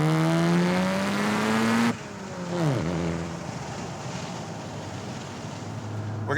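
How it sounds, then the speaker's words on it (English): A 1993 Mazda RX7 R1 with a rotary engine revs hard under acceleration, its pitch climbing steadily, then shifts and carries on amid heavy wind and road rush, loud and close throughout. "gonna get you a nice little acceleration run"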